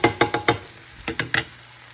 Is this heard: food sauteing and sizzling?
yes